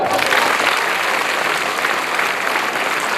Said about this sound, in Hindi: Hands up, clap, go.